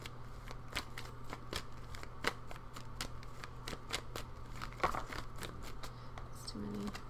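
Tarot cards being shuffled by hand, a run of quick, crisp card snaps and riffles repeating at an irregular rhythm close to the microphone, with soft talking underneath.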